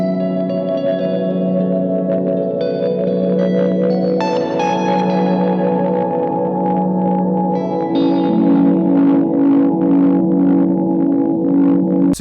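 Electric guitar played through a Universal Audio reverb pedal on its chamber setting: sustained, layered chords and single notes ringing out with a lush, roomy reverb tail, clear and up front with no talking.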